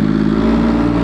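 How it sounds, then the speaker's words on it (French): MV Agusta 800 Dragster limited-edition motorcycle pulling away in first gear, a loud close engine drone with a steady low throb as it starts to accelerate. "La moto ne cale pas, je suis en première, je commence à accélérer."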